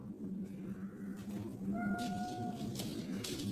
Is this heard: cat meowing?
yes